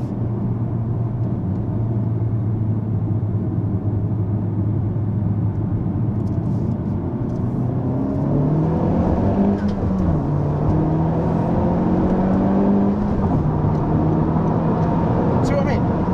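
Honda Civic Type R engine accelerating in second gear around a roundabout, a steady close cabin rumble with a rising engine tone partway through, heard under occasional talk.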